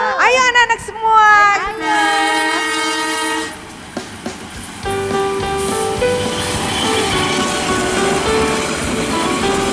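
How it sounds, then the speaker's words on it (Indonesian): A train horn or whistle sounds with sliding, bending tones at the start, then steadier rail noise continues under music for an online Sunday school service. "kita naik kereta api"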